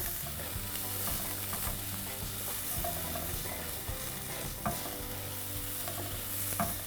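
Chili and spices frying in a small pan as they are stirred, a continuous close sizzle with soft scraping strokes of the spoon and no talk.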